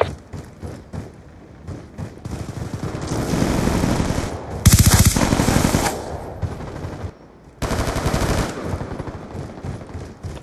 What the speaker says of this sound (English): Oh, sentry gun through the wall.